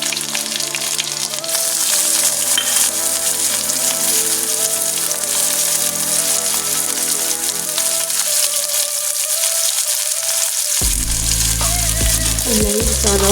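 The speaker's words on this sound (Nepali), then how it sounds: "अब हाम्रो तेल तातिसकेको छ। प्याज हालौँ, काटेर राखेको प्याज।" Chopped onions hit hot oil for spicy noodles, giving a steady, loud broadband sizzle that holds throughout, with a sharper burst and clatter near the end as they are dropped in or stirred.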